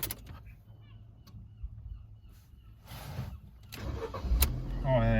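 A car engine started with a push button, quiet cabin sounds first, then the starter whirring and the engine catching and settling into a low idle, close and growing louder toward the end.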